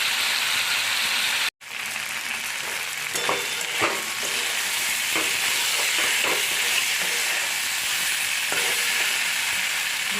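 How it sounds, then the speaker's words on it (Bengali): Vegetable curry with green chillies sautéing in a pan, a loud, continuous sizzle and hiss with irregular scrapes and taps of stirring, briefly cutting out near the start, with no talking. "দুটো কাঁচা লঙ্কা দিয়ে দেবো ভালো করে একটু কষিয়ে নেবেন"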